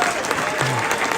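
Dense, steady audience applause fills the whole moment, loud and continuous, with crowd noise mixed into the clapping.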